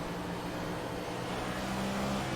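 A NASCAR Cup car in the iRacing sim at Richmond drones steadily with a low engine hum, moderately loud and continuous, with no talk over it.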